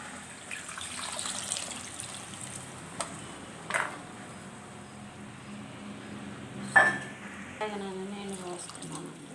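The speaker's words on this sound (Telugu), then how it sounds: "పులుసు వేసాక బెండకాయ ఉడకాలిగా తగిన నీళ్ళు పోస్తున్నాను" Water pours into an okra and tamarind curry in a cooking pot, a soft, fairly faint splashing with a few brief louder bursts, and a voice is faintly present near the end.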